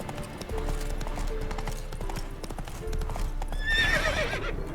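In The Witcher 3: Wild Hunt video game, hooves clip-clop steadily, then a spooked horse lets out a loud, high whinny near the end, with faint ambient noise beneath.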